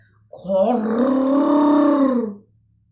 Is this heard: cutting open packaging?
no